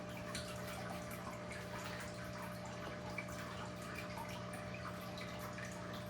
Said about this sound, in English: Just do a complete water change, because this is a smaller tank